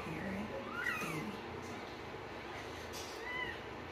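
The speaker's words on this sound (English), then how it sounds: "she actually is having her kittens right now. I don't know, can you hear it?" A pregnant cat mewing softly while giving birth to kittens, several faint, thin cries spread across a few seconds under a quiet room background.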